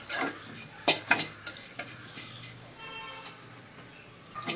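Spice paste fried with mustard seeds for pappadam thoran, a Kerala side dish, sizzling steadily while a spoon scrapes and stirs against the pan in several sharp bursts, close and alone.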